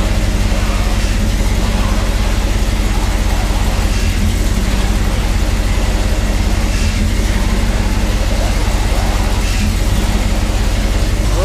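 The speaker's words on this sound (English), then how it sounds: "Now we're gonna turn the wheels lock to lock and make sure it's not whining." Chevy C10 engine running in a shop while the steering wheels are turned lock to lock after a power steering pump replacement, a loud continuous idling drone with steady low rumble and no distinct whine.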